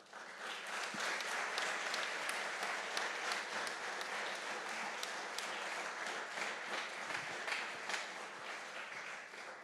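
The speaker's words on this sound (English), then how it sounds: "if we applaud those that volunteer at the University of Massachusetts to support our students like Ruby did" An audience at a university entrepreneurship innovation challenge final applauds volunteers, giving a steady round of clapping that lasts several seconds at moderate distance and then starts to fade.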